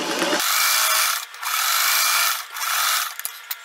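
A sewing machine stitches along the raw edge of a man's shirt being turned into a girl's skirt, a close, steady mechanical whirring in two long runs separated by brief pauses, ending with a few sharp clicks.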